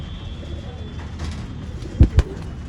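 Pigeons kept for sale in Bangalore coo softly at close range over a low, steady background hum. Two short, stronger coos follow each other quickly near the end, and there is no talking.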